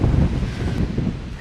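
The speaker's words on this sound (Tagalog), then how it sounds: "Grabe hangin." Strong wind roars and buffets steadily at a riverside campsite, loud and close, with no voices.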